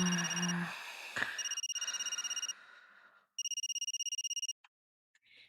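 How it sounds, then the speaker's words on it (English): A phone alarm clock in the Paradise video game rings in bursts of rapid electronic pulses, clear and close, with short gaps of silence between the ringing stretches. "I could hear the ringing of my alarm clock."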